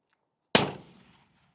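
A single rifle shot fired with an Aero Precision SOLUS during ammunition testing: one sharp, loud crack with a quickly fading tail. No one talks over it.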